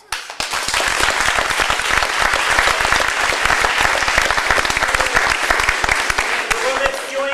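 Sustained audience applause at the end of a theatre show by a junior troupe, dense rapid clapping from a full room holding steady for several seconds after a brief quiet start.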